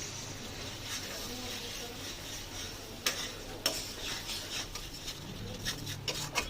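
A paste of nuts, ginger, dried red and green chillies goes into a pan for a yam kofta curry, heard as close scraping, rubbing and stirring with intermittent sharp taps of a utensil against the pan.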